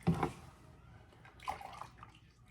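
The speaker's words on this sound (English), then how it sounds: "even in this spent stuff, I've still got liquid in here dripping" Leftover liquid drips from spent food set to strain in a kitchen before canning: a few faint, scattered wet drips and trickles, quiet and irregular, with no talking.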